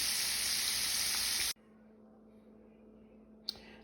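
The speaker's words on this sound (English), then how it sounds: "As you can see, the searing is coming along nicely." Beef stew meat searing in a skillet, a loud bright sizzle that cuts off abruptly after a second and a half, leaving a low quiet hum before a short burst of sizzle returns at the end.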